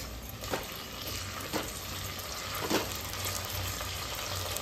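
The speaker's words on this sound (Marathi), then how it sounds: "आता टोमॅटो टाकून घेते।" Tomatoes go into browned onions in a frying pan while masala rice is cooked, giving a steady hiss and sizzle with a few soft stirring scrapes and no talking.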